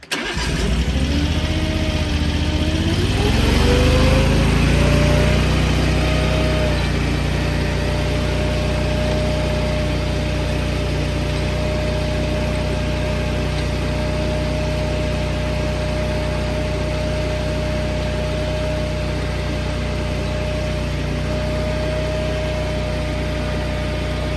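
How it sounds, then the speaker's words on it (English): A Chinese-made Dingo tracked mini loader, a rental machine with undercarriage problems, starts up and then runs continuously at a loud, even engine drone while its tracks are driven back and forth at high speed. "I'm going to start the machine and just run the track back and forth at high speed"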